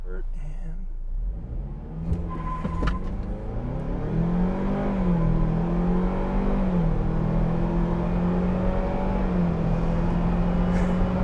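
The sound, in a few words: Ford Bronco 10-speed automatic accelerating through gears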